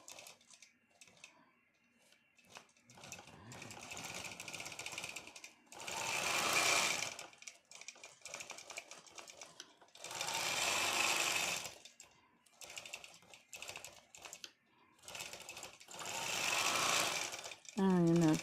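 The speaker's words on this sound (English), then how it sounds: "I'm sorry if you're having to listen to me with the long arm going." A long arm quilting machine stitches a custom quilt top, its motor humming in repeated loud bursts several seconds long, separated by quieter pauses in which someone talks.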